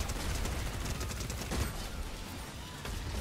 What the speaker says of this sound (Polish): Zobaczcie, jak te moby schodzą z tego karabinu.